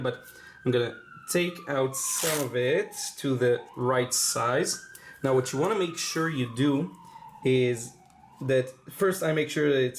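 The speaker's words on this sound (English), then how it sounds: "Sorry about the sirens outside" An emergency vehicle siren wails outside, a faint rising and falling tone running steadily under close indoor speech throughout.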